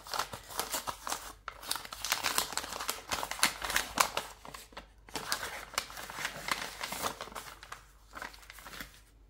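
Brown paper envelope from the bank being handled and torn open, with crisp crinkling, rustling and ripping in irregular bursts close up, broken by brief pauses.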